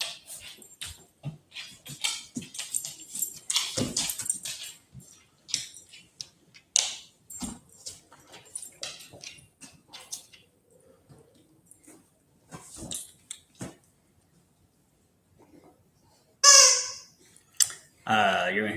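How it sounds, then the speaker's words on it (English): Dogs playing with their toys in the background of a home: scattered thumps, jangles and squeaky bursts, with a sharp high squeak near the end, mixed with intermittent indoor talk and noises. "You're gonna hear sounds in the background now. It's my dog's playing with their toys."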